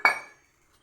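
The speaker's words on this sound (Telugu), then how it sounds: "ఇప్పుడు గిన్నె పెట్టేశాను." A metal cooking pot is set down while taro root curry is being made, giving one sharp close clink that rings briefly and then dies away into silence.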